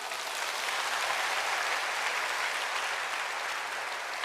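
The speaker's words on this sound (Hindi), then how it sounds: "तालियां बजाओ" A crowd at a gathering with children claps continuously, a steady even wash of applause that holds at a constant level for about four seconds.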